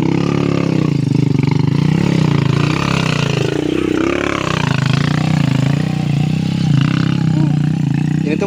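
Motorcycle engine laboring and revving loudly as it climbs a steep mountain trail near the summit of Gunung Artapela, with a continuous roaring, clattering drone that rises and falls through the clip.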